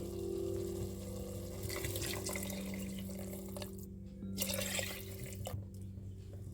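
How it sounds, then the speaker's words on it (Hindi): Water poured into a pressure cooker holding rice and peas for pulao, a steady close splashing pour with no voices. "अब हम इसमें पानी ऐड करेंगे।"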